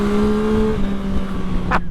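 A Yamaha MT-09 motorcycle with semi-automatic Y-AMT shifting revs hard through gear changes, its engine note holding a steady pitch before a shift and a brief sharp blip near the end, loud and close.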